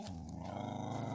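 A dog growls low and steadily for about a second, fairly close, with no one talking over it.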